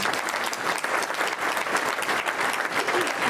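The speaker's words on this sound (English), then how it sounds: "Let's give them one more round of applause." A crowd applauds at a State of the Valley civic event, steady and dense clapping filling the room throughout.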